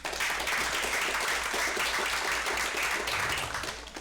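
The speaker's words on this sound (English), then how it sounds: "Let's give them a round of applause." An audience at a real estate seminar applauds, a moderately loud burst of clapping that holds steady for a few seconds before tapering off at the end.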